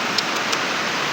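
Heavy rain pours in a dense, even hiss that fills the short moment, steady and close with a couple of faint drop ticks and no voices.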